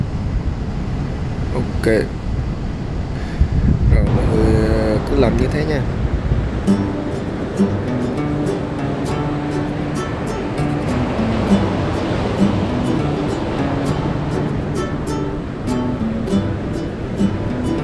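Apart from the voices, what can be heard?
sea waves washing in on the beach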